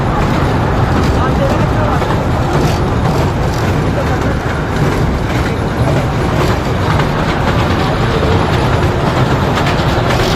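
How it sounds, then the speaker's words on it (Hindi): A Mumbai local train at a station, a loud continuous rumbling roar with rail clatter, with crowd voices mixed in throughout. "तो फाइनली यहाँ पे ट्रेन आ चुकी है और अब हम लोग ट्रेन पे बैठकर वापस जाएंगे।"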